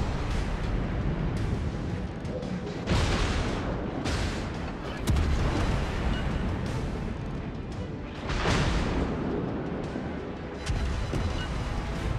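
Ship cannons fire in a pirate video game, with a dense, continuous roar of heavy booming shots that swells several times, loud and close, with talk mixed in.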